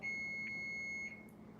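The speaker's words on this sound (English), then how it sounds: "Oh, that timer's beeping." A kitchen timer sounds a steady, high electronic tone for about a second before cutting off, leaving a low room hum behind it.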